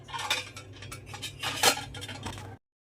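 Metal pooja utensils handled during cleaning, with a run of close clinks, scrapes and knocks in irregular bursts before falling silent, no voices.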